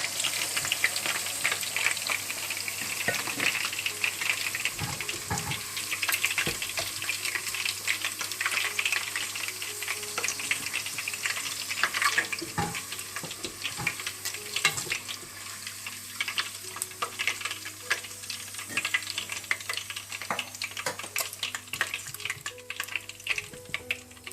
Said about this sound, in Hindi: इसी तरह से आप सारा चिकन डीप फ्राई कर लें।